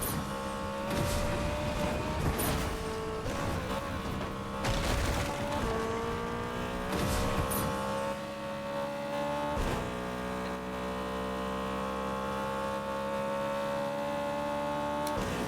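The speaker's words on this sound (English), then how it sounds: "It's a very loud car." A loud car engine in the Fortnite video game drones steadily with pitch shifts as it revs, mixed with sharp bursts and game noise throughout.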